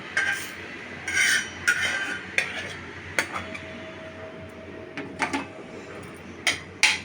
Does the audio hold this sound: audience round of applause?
no